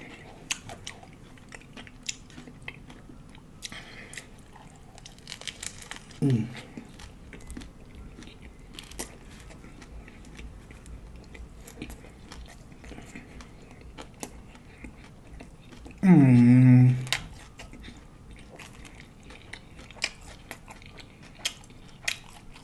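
A taco is bitten into and chewed, with a short crunchy bite early and a louder, longer crunch later, close up and otherwise quiet apart from small mouth noises.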